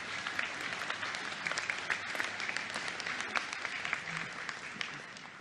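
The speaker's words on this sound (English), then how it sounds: "Let's give her a round of applause." A room of delegates at the Assembly of First Nations annual general meeting breaks into sustained applause, many hands clapping in a dense, lively texture with a few sharper claps standing out before it gently tapers.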